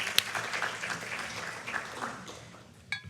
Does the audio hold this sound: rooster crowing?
no